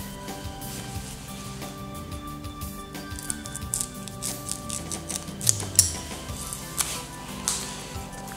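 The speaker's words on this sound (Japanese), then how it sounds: "こう斜めにハサミを入れて、" Scissors cutting at an angle through the base of a sansevieria stem for a corsage, giving a few short crisp snips near the end amid light handling clicks and rustles.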